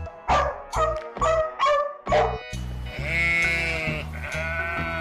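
A few short, close dog barks give way to a sheep's long, wavering bleat that carries loudly to the end.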